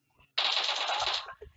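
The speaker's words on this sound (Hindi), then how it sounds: "अरे गलती से फायरिंग हो गया मेरे को" Automatic gunfire in PUBG, a sustained loud burst of rapid shots lasting about a second, followed by a few faint trailing sounds.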